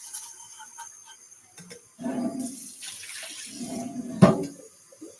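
Faucet water runs briefly into a crockpot in a home kitchen, a soft splashing trickle in short bursts, close and fairly quiet, ending with a small clank.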